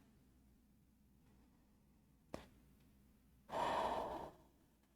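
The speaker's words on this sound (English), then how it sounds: "We'll have another breath here." A single deep breath during a yoga practice: a brief soft intake, then a louder, breathy exhale about a second long, heard close in a quiet room.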